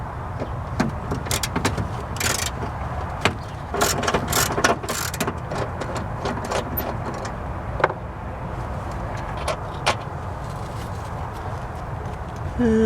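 Ratchet with a long extension working 10mm bolts on the air intake of a 2006 Honda Pilot, giving a steady run of close, sharp clicks and metallic clatter in bursts, with no talking.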